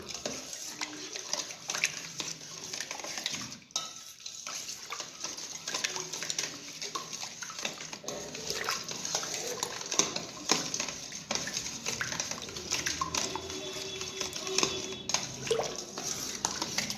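Milk mixture stirred in a pot with a spoon for croissant dough, a steady stream of soft scraping, clinks and swishing, close and low in level, with someone talking at times.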